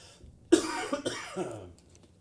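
A single sharp cough nearby, trailing into a few rougher follow-up bursts like throat clearing, fairly quiet overall.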